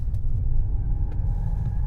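A Bentley Flying Spur or Mercedes S-Class rumbles steadily at low pitch while driving, with a constant engine drone and road noise throughout and no voices.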